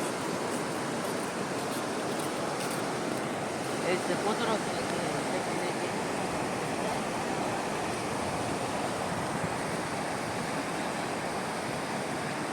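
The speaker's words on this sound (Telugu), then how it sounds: "కింద వాటర్ ఫాల్ వ్యూ" Steady roaring rush of falling water fills the whole stretch, broad and even with no pauses, like a waterfall heard from close by, near Rayagada on the Andhra–Odisha border, flowing lower than in rainy season.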